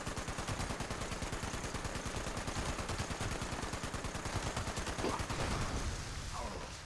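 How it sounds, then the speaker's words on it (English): Sustained rapid-fire shooting at an enemy in Fallout 76, a fast steady stream of shots running loud and unbroken throughout, with a brief voice near the end. "I may shoot this baddie here"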